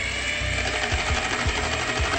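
An electric mixer whips egg whites with rum into stiff peaks, giving a steady close whir with a rhythmic knocking pulse as the beaters turn in the bowl.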